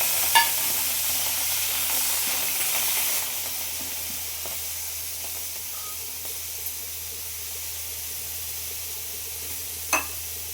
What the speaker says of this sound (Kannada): ಹಂಚು ಬಿಸಿಯಾಗಿದೆ, ಹುರ್ಕೊಂತೀನಿ